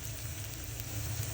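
Chopped onions, with garlic, fry in a pan for a fish-head and taro-leaf dish, giving a brief, steady, close hiss of oil sizzling with no voices.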